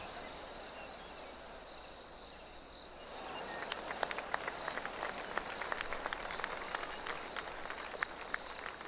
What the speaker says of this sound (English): Well, I got applause now.